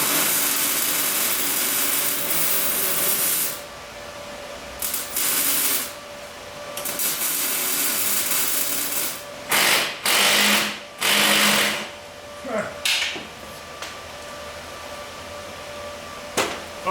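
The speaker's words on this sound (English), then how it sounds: "I'm gonna weld the nut to the stud, pull it out hopefully, and then put a new stud in." Welding a nut onto a broken stud on a Subaru exhaust downpipe: a steady crackling, buzzing arc that runs in several sustained stretches and short bursts, close by, with no talking.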